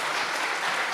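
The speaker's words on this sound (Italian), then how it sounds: "Faccio picare un applauso di dovere." Audience applause at a public gathering on the Sardinian language, a dense, steady wash of clapping from a crowd filling the whole moment without voices over it.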